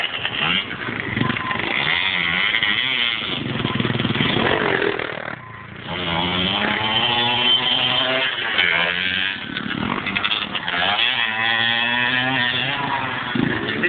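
A four-stroke dirt bike engine buzzes and revs continuously, rising and falling in pitch, loud and close, with a brief dip midway.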